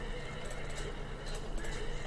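A horse whinnies in the Hearthstone card game, a continuous neighing call with clip-clop hooves layered over a dense game soundtrack at moderate volume.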